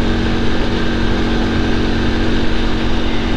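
A motorcycle rides along a gravel road at about 60 km/h, its engine giving a steady, loud, close drone mixed with broadband wind and road rumble throughout, with no voices heard.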